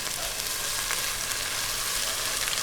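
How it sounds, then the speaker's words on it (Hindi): Ginger and garlic paste fries in a pan with a steady, dense sizzle and crackle, close and continuous with no talking. "अदरक और लहसुन के पेस्ट को भी हमने ब्राउन कर लिया है।"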